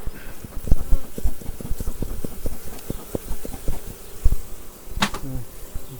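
Honey bees buzz around frames pulled from a two-box beehive during an early honey harvest from acacia and mixed wildflowers, with a steady hum under repeated close clicks and knocks from handling the frames.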